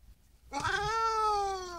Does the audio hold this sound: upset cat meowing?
yes